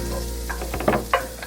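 Shallots drop into hot butter outdoors at a campsite and sizzle up close. A steady frying hiss plays under a low hum, with a few sharp crackles and stirring clinks, and no talk.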